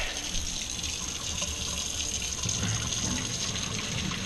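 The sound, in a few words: water being poured out of a pot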